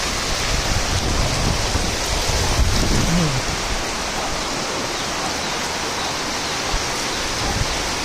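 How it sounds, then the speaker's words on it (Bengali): Heavy rain pours in a steady, dense hiss, with a brief low rumble of thunder near the start, in Chandraghona, Bangladesh. "দেখুন হচ্ছে বৃষ্টি"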